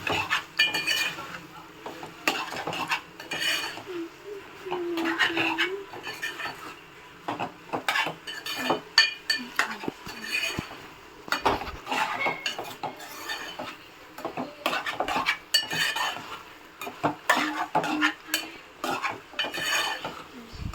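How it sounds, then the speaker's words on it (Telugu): A spoon mixes salted food in a pot, producing repeated metallic scrapes and clinks against the pot in an uneven rhythm, close and fairly loud, with a faint sizzle beneath. "నెక్స్ట్ కలుపుకోవాలి."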